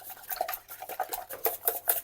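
Rapid, irregular clinking of a whisk against a metal pot set over steam above boiling water, steady and close, with a light rhythmic scraping throughout and no talking.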